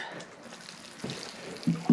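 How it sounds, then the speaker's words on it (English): Water is poured into potting soil being mixed for seed-starting soil blocks, a soft trickling and splashing under a low murmur, ending in a couple of louder wet splashes. "So we're gonna add the water first."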